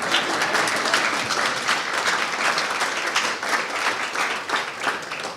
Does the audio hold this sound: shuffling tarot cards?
no